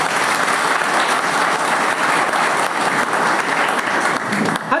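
Audience at a one-day CSC workshop applauding steadily, a dense, continuous wash of clapping from many hands that stays loud throughout with no pauses.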